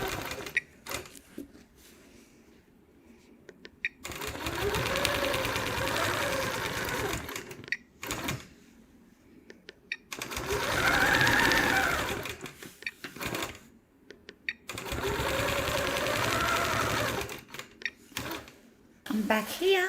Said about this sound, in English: now let's just stitch the outside of that